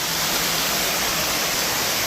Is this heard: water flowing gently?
yes